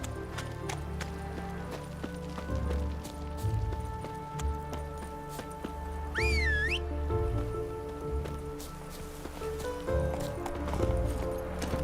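Geralt's horse Roach trotting in The Witcher 3, a steady run of soft hoof clip-clops beneath game music and ambience, with a brief rising tonal sweep partway through.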